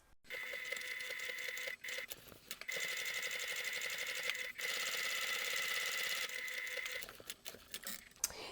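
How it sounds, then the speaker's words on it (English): A sewing machine top stitches a clutch bag through all layers close to the edge of the base panel, running in steady mechanical bursts with short pauses between runs, near and fairly loud. "Then we're going to top stitch this in place through all layers as close as you can get to the edge of the base panel piece."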